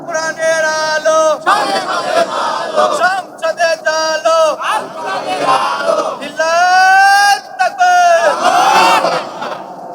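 A large crowd at a Bengali religious sermon shouts the takbir in unison, loud sustained chanted phrases rising and falling in waves over about ten seconds, with brief pauses between them.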